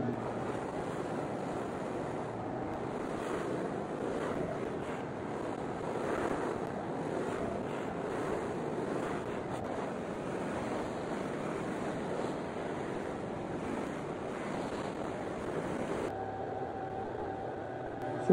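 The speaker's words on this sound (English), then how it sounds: "now we're going to put it on the buffer, see if we can make it shiny" A large buffing wheel polishes a Makore wood guitar body, giving a loud, steady, breathy whooshing whir that runs unbroken and then eases slightly near the end.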